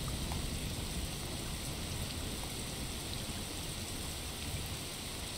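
Steady rain hisses down continuously, a dense even patter with no voices, in the game Desperados 3.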